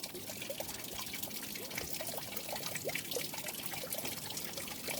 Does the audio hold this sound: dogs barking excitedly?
no